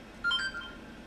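A phone gives a short electronic beep tone, brief and clear over a quiet room background, part of a repeating alert.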